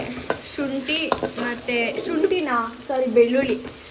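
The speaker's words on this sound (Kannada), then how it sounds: "ಬೆಳ್ಳುಳ್ಳಿ ಮತ್ತು ಆನಿಯನ್ ಹಾಕಿ ಫ್ರೈ ಮಾಡ್ಕೊತಿದ್ದೀನಿ." Garlic and onion fry in hot oil with a soft, steady sizzle and occasional stirring scrapes, mostly under a voice talking close by.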